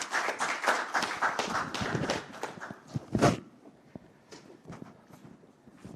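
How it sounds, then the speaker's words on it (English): Audience applause at a women-in-energy event, a burst of scattered handclaps for about three seconds that thins out into a few isolated claps and quiet room sound. "Let's give you a round of applause again."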